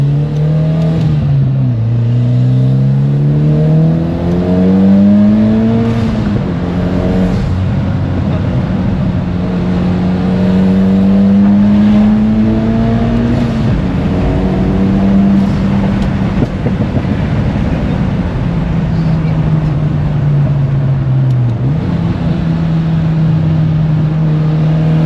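A 2013 Mitsubishi Lancer Evolution X makes repeated acceleration pulls, its engine note climbing steadily through several gear rises and dropping between shifts, loud and close for the whole stretch with no talking.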